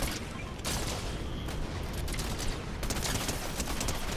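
Dense Fortnite gunfire: continuous overlapping bursts of automatic shots, loud and close, rattling without pause throughout.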